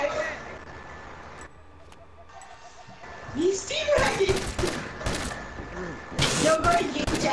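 Sharp bursts of gunfire from The Last of Us multiplayer matches crack in quick clusters during the second half, over a steady game background, while players talk.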